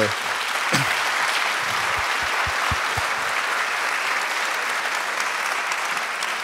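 At a roundtable on administrative mediation, an audience gives a close, steady burst of many hands clapping that holds evenly throughout, with a few low thumps early on.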